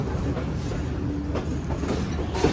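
A train runs along the rails near Khanewal in Punjab, with a steady, loud rumble and faint rhythmic clatter that continues throughout without a break.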